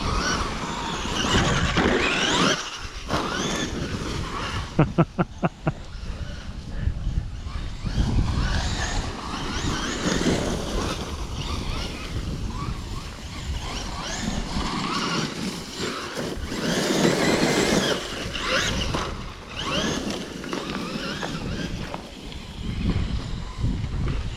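A Traxxas E-MAXX radio-controlled car runs in a test outdoors, its motor whirring and surging unevenly at moderate volume over wind noise, with a quick burst of rattling clicks partway through.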